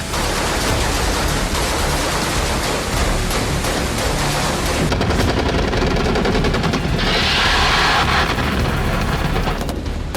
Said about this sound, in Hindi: रात के घुप अंधेरे के बीच यूक्रेनी कमांडो अपनी जान बचाने के लिए फायरिंग कर रहे थे